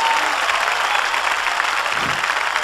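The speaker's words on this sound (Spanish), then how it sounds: "Dele palmas al Cristo de la gloria." Church congregation applauding together during a worship service, a steady dense wash of clapping hands filling the space without pause, loud and even throughout.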